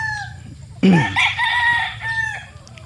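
A young rooster stag, newly corded and late born, crows once loudly and close, a strained, raspy cock-a-doodle-doo over faint background clucking and other fowl calls.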